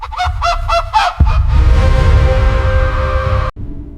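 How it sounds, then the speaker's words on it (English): Pure white hen on a cold stone altar squawks in a rapid series of loud, nasal honking cries, then thrashes with a sudden burst of flapping and scuffling that ends abruptly. "My guide brought in a pure white hen."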